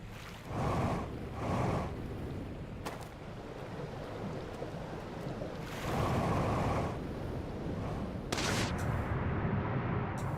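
A fall into water in the game Outer Wilds, Echoes of the Eye expansion, brings several rushing, splashing bursts over a low watery rumble, with quieter churning between them.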